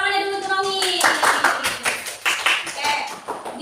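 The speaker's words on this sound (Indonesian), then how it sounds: "Tepuk tangannya dulu untuk Nomi." Brief applause from a classroom of students breaks out after a short voiced tone, a burst of scattered hand claps lasting a few seconds, with some talk mixed in.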